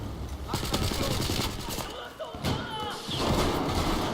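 Suppressed gunfire in Battlefield 4, a rapid series of muffled shots that come in bursts over about four seconds, mixed with game noise and a voice talking over the action.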